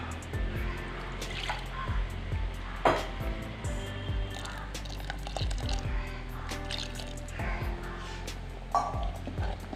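Water is poured and splashes into a simmering pumpkin curry, with soft liquid squishes and drips alongside light clinks of a utensil.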